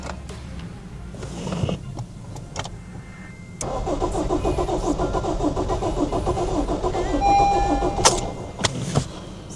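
A Honda Civic with a rebuilt front end and a lingering crash-data fault cranks close by without catching, giving a steady rhythmic churn of the starter that grows louder and continues for several seconds.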